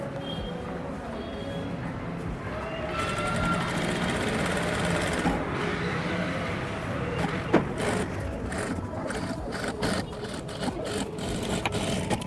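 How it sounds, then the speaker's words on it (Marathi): Electric sewing machine running a continuous straight stitch around the drawn neckline of a 34-inch katori blouse, a steady whirring motor hum that holds throughout with small shifts in pace and faint background voice. "आता आपण जो गळा ड्रॉ केला आहे त्याच्यावर शिलाई मारून घेऊया"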